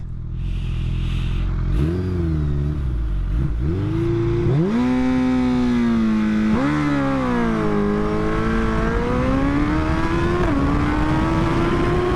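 Suzuki Hayabusa motorcycle engine revving hard on a runway, its pitch climbing and stepping up through gear changes as it pulls away, loud and close with no talking.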